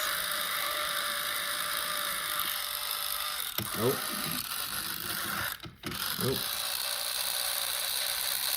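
A toy train locomotive mechanism runs with a steady ratcheting, whirring drone and occasional clicks and squeaks, faint and close, while a voice briefly exclaims.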